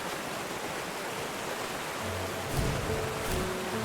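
Waterfall in the video game The First Tree: a constant broadband rushing roar, steady and enveloping, with a faint low tone and a soft swell near the end, no voices.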